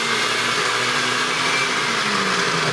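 A cheap blender whirs steadily and loudly while blending an açaí berry bowl, a continuous high motor whine with no talk over it.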